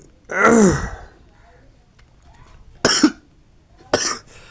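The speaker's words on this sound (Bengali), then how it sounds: "আমি দুঃখিত কাশির জন্য" Three sharp coughs close up, a longer raspy one first, then two short bursts separated by quiet pauses.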